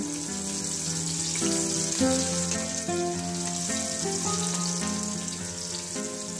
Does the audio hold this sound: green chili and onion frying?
yes